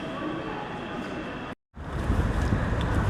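Loud, steady rumble of a subway train riding toward Balsan station, with a brief dropout midway before the roar resumes, heavier and closer.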